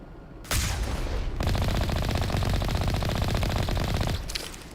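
Rapid, sustained automatic gunfire from snipers in a 2007 space RPG video game, loud and continuous for several seconds before tapering off.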